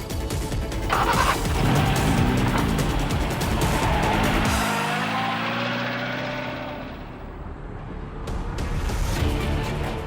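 A car being driven during a tense pursuit scene, its engine and road noise steady and close throughout, with a brief whoosh of passing traffic partway through and no voices.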